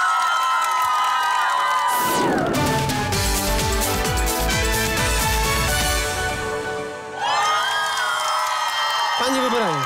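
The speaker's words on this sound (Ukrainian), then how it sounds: "Ваші оплески" At an outdoor karaoke contest on a city square, a crowd cheers and whoops for two performers, the loud shouting rising over booming stage music and then giving way to the music again.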